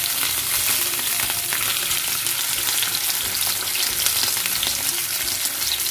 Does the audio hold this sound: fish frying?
yes